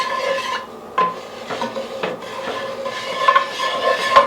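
A spoon scraping and stirring roux in a pot over very low heat for a sausage, chicken and shrimp gumbo, with repeated rasping strokes and soft metallic scrapes, close and steady with no voices.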